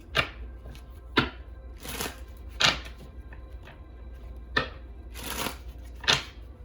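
Repeated bursts of tarot cards being shuffled, each a quick riffling rush separated by short pauses, close and fairly clear.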